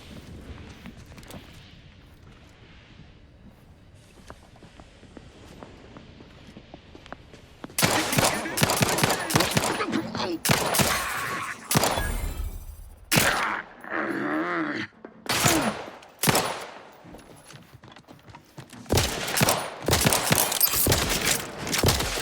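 Gunfire from a weapon in the video game Outer Worlds 2: after a quiet stretch, loud bursts of rapid shots break out in clusters with short gaps, close and harsh, with faint voices mixed in.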